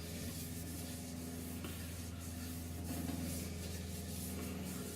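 A cloth rubs sanding sealer onto woodwork in a continuous, soft, even hiss with slight swells, close and quiet, with no talking.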